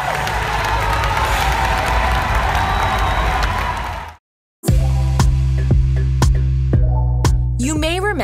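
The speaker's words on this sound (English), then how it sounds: "Hear that crowd's reaction. It's like every team from every sport around the world just became champions." A huge crowd at a Square Enix E3 press conference erupts into loud cheering and applause, a dense roar that holds for about four seconds before a sharp cut to music.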